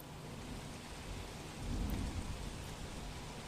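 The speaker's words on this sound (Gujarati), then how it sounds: "અમદાવાદના મોટાભાગના વિસ્તારોની અંદર અત્યારે જે ધીમી ધારે વરસાદ પડી રહ્યો છે" Light rain falls steadily across parts of Ahmedabad during a monsoon shower with gusty winds, a constant soft hiss with a low rumble swelling briefly midway, no voices.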